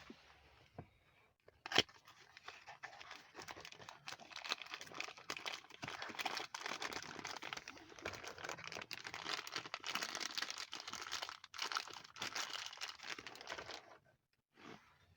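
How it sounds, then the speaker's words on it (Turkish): Plastic packaging for new VW Transporter T5 window switch buttons is torn and crinkled open close up, a continuous busy rustle with sharp crackles, ending with a short pause and a final rustle. "Şimdi de yeni aldığımız düğmeleri açalım."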